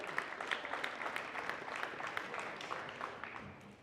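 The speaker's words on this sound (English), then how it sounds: "Give these guys a big round of applause here." A crowd applauds steadily at a football signing ceremony in Ada, Oklahoma, with dense, sustained clapping that holds at an even level for several seconds.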